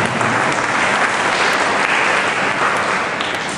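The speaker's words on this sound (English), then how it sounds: "let's give a hand clap for them" Steady audience applause from a crowd at a church sermon gathering, dense continuous clapping held at an even loudness throughout with no talking over it.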